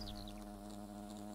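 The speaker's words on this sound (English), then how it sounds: "Oh, that buzzing in my ear. It's awful." Giant wasps in the video game Fable Anniversary drone with a close, steady insect buzz that persists without a break, loud and continuous, with a few faint higher chirps near the start.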